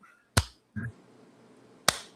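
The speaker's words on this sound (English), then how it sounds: "He gets a slow clap." Two loud, sharp claps spaced more than a second apart, a deliberate slow clap, with a short low thump between them; no talking.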